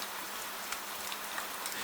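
Gentle rain falling steadily beyond shuttered windows at night, a soft continuous hiss with a few faint drops.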